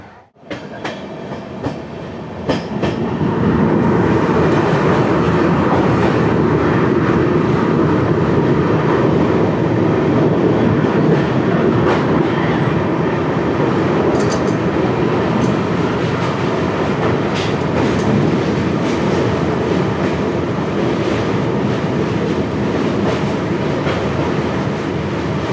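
The Kanchanjunga Express from Sealdah rolls into a station, a loud steady rumble of wheels and carriages that builds quickly after a quiet start and holds with rhythmic clatter and occasional squeals.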